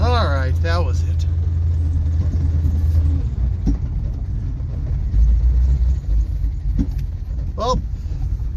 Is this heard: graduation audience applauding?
no